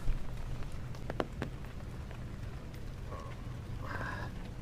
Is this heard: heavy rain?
yes